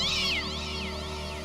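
A black cat gives a short, close vocal sound, a strained, wavering cry that holds steady and then slides down in pitch, with no talk over it.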